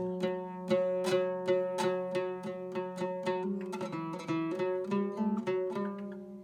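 A plucked oud plays a slow run of single notes in the Uşak maqam, each attack ringing and decaying, settling repeatedly on a steady low tonic pitch, close and clear.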